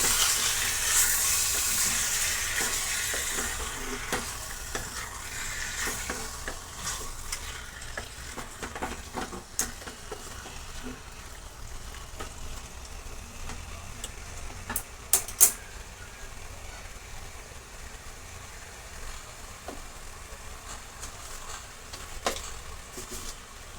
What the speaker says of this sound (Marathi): आता व्यवस्थित परतून घेणार आहे.